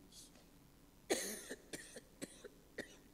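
A single loud cough followed by several shorter, quieter coughs spaced about half a second apart, close and clear against a quiet background, during a church service.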